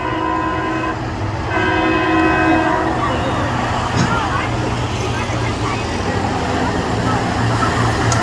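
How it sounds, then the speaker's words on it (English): School bus horn honking at a figure 8 demolition derby, a loud sustained tone early on, then engine roar and crowd noise with a commentator talking throughout. "I think he's been on the horn about every single time he's come through the X, letting them know he's coming through."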